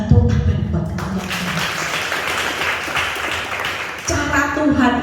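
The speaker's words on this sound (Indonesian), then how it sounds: "Tepuk tangan buat kalian" A church congregation at a Pentecostal service in Bali breaks into dense, sustained applause that swells for several seconds. Voices can be heard just before and after.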